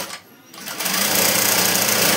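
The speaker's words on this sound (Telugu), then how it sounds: "ఇదిగో చూడండి, నేను కుట్టు అనేది ఎలా వేస్తున్నానో మీరు ఒకసారి చూడండి." A sewing machine stitching a semi patiala salwar starts up after a brief quiet moment. It then runs in a fast, continuous close-up whir of rapid needle strokes.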